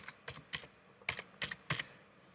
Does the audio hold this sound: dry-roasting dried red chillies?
no